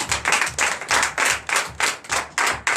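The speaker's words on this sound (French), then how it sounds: "Donnez l'acclamation au Seigneur Jésus" A church congregation at a Sunday worship service in Comè, Benin, claps in rhythm to acclaim Jesus, loud and close, with about ten sharp, evenly spaced bursts of clapping.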